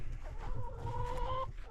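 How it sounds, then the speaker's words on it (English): Farm chickens clucking nearby in a short, continuous run of warbling calls with a steady low background rumble, no voices. "Say hi to the chickens."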